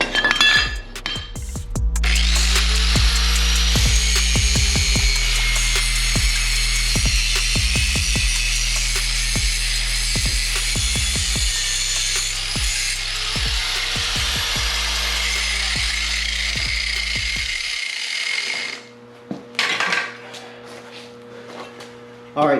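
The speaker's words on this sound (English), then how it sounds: "let me go ahead and get to grinding this now" A power grinder works over welded metal during an LS engine swap, a loud sustained whine with rhythmic pulses and clanks that cuts off near the end, followed by a few scattered knocks.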